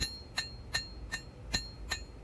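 Hand forging on an anvil, a hammer striking a knife blade to bend a reverse curve, seven sharp ringing blows at a steady, even rhythm, close and clear with no talk.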